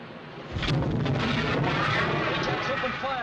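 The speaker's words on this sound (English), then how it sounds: "We're opening fire, sir." Naval guns open fire in a 1956 war film, a heavy booming blast that swells into a sustained rumbling roar lasting several seconds.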